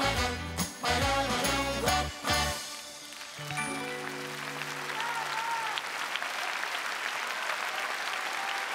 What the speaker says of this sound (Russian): Спасибо вам за ваши аплодисменты.